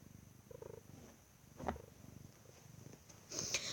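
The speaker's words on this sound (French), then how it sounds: "Le chat." A cat purrs in soft, steady low pulses that run through the whole stretch, with a brighter burst of noise near the end.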